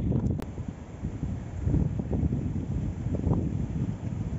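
Wind gusting on a mountain path up to a hillside castle in Portugal, a steady broadband rush with buffeting against the microphone that swells and eases, no speech.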